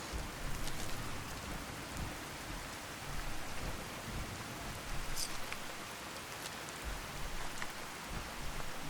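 Heavy storm rain pours in the Fallout 4 video game, a constant dense hiss of drops with faint rumbling underneath, steady throughout and free of talk.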